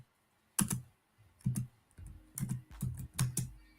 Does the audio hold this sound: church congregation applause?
no